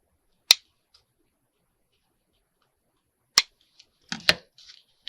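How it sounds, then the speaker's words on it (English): Scissors trim small links in a few isolated, crisp snips separated by silence, with a quick cluster of cuts near the end. "I'm trimming the little links."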